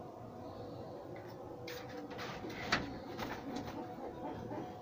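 Pigeons coo softly in a loft of green pigeons, low murmuring calls rising briefly amid a steady background hum, with some faint rustling and no speech.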